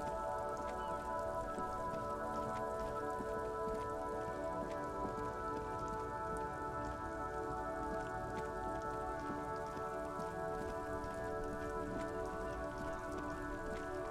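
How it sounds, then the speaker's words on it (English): Steady rain in the video game Disco Elysium patters continuously on hard floors, an even hiss of drops with a faint tonal hum underneath and no talking. "Very cool how the rain reacts on the floors."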